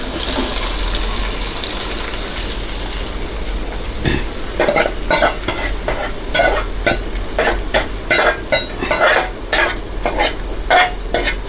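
Chopped onion, tomato and ginger sautéing in oil in a pan on a high flame, a loud steady sizzle that turns into vigorous rhythmic stirring and scraping in the second half, no talking.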